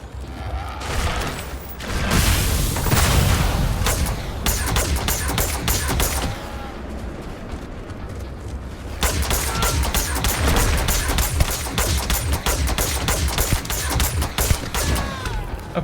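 Rapid bursts of gunfire from a gun in the video game Starfield crackle loudly and almost without pause, with booming impacts and mechanical clatter mixed in and a short lull midway.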